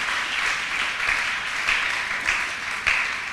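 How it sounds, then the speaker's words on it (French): A church congregation applauds loudly and steadily, dense clapping with small swells, no voices over it. "On acclame très fort."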